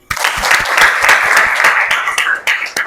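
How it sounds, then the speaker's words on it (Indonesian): Schoolchildren in a classroom clapping together, a loud dense burst of hand claps that starts abruptly and continues steadily, thinning slightly near the end. "Ayo tepuk tangan."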